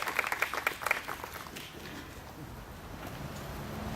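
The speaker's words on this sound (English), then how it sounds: "We can continue our round of applause." Audience applause at an outdoor street co-naming ceremony honoring servicemen and women, moderate clapping that starts fuller and thins into a steady, softer patter for the rest of the stretch.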